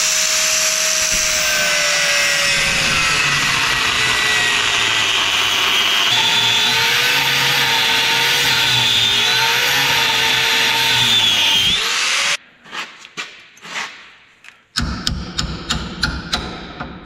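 Power tool grinding and cutting metal off a vehicle frame, a loud continuous whine with shifting pitch for about twelve seconds, then stopping into a series of short bursts and clunks.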